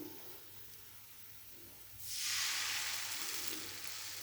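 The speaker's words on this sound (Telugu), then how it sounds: "ఇలా సుయ్యమనేంత వరకు వేడి అసలు ఫస్ట్ పెట్టాలి" Hot oil in a deep frying pan set on the stove for frying snacks: a quiet stretch, then a sudden loud, close hissing sizzle that swells and keeps going to the end, with no talking.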